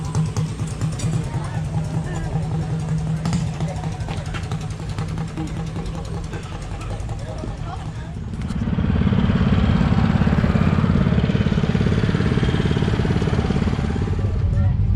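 A custom motorcycle engine runs at a car show and swap meet with a rough, throbbing idle that swells louder about halfway through, while people talk nearby.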